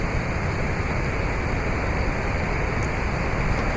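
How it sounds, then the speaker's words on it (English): Steady, dense roar of rushing water from a waterfall, constant and enveloping with no voices. "I love the sound of the rushing water in the falls."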